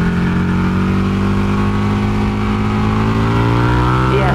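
A 2023 Buell Hammerhead 1190 motorcycle rides on a track, its engine droning loud and steady at high revs and pulling slightly higher toward the end, with no voices.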